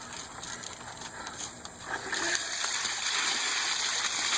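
Ice and water poured into a bucket for an Ice Bucket Challenge, a rushing splash that grows louder and fuller partway through and keeps pouring steadily to the end.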